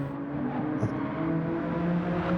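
Race cars in an online racing league: steady engine drone with tonal harmonics, a continuous mid-level hum rising slightly, as if heard trackside from a moderate distance, with no talk.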